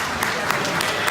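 Audience applause at a San Francisco District 5 supervisor candidate debate: a short, steady wash of clapping from the room, fairly loud and sustained throughout.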